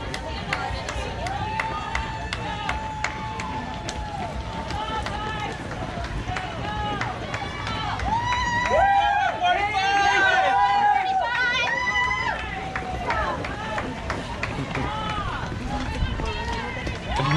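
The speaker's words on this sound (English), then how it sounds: "It's the party crowd." Spectators along the 8th km of the 2019 SeaWheeze Half Marathon cheer and shout encouragement as runners pass, a steady festive crowd hubbub with whoops swelling to a louder burst midway, a nearby voice calling out over it.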